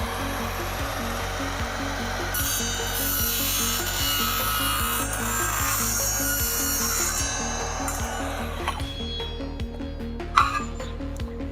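An Evolution R185SMS-Li cordless radial mitre saw cuts through a clamped workpiece, giving a steady, loud whirring grind for most of the clip, with the pitch shifting as the blade bites and a few knocks as it winds down.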